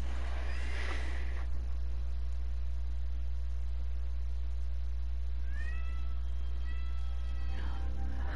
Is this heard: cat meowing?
yes